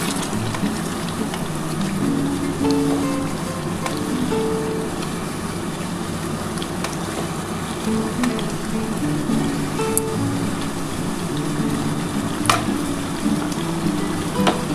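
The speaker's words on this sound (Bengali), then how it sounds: "দেখো এই জলটা আমি দিয়ে দিচ্ছি" Hot water poured into a pot of simmering Bengali potato curry (aloo dum), a steady bubbling, sizzling wash that continues evenly throughout with a few faint clinks, close and moderately loud.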